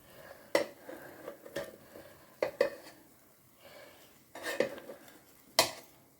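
Pieces of fried chicken are turned in an air fryer basket, giving several sharp metallic clinks and scrapes spaced irregularly over a quiet background.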